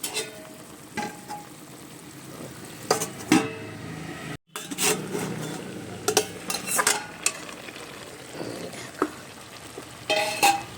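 Helencha greens cook in a pan with soft sizzling and scraping stirs, a few sharper clatters of utensil on metal, and a brief drop to silence midway before the frying resumes.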